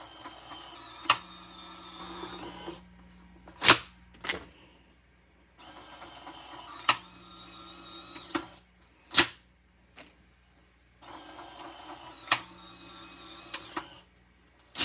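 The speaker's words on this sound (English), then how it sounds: "so I got the eject cycle working better" A large Polaroid I-type camera runs its print eject cycle, with repeated motor whirs a few seconds long broken by sharp mechanical clicks and clacks, close and fairly quiet, with no talk.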